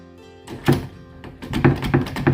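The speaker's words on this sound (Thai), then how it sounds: "เมื่อเรากดลูกบิดเสร็จเรียบร้อยแล้ว ผมจะปิดประตูเข้าไปเลยครับ" A door closing after its inner knob has been pushed to lock, giving a sharp thunk followed by several quieter knocks and rattles as it settles shut, close by with no talking.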